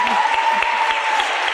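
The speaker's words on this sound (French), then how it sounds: "il faut vraiment l'applaudir plus fort" An audience at a ceremony claps for Corinne, a continuous wash of many hands at moderate loudness, with a faint steady tone and a few low thumps underneath.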